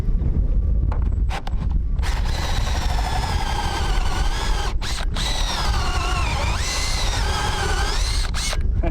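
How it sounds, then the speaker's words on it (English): Power drill with a hole saw cutting through a boat deck, a loud whining grind that rises and falls with brief pauses, close and without talk. "So yeah, drilling holes in my boat."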